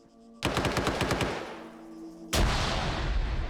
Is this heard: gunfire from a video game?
yes